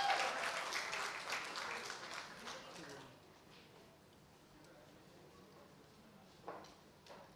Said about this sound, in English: please, a round of applause for Trisha Das